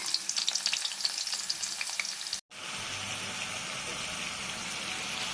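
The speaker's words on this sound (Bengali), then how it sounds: "পরিমাণ মতো তেল দিলাম তেলটা গরম হয়ে গেলে একটু পেঁয়াজ কুচি করে পেঁয়াজ কুচিটা যখন লাল হয়ে যাবে তখন ওটা তুলে রেখে দিতে হবে" Chopped onion fries in hot oil with a steady, close crackling sizzle. Light stirring scrapes sound early on, then a brief break, and the hiss carries on evenly.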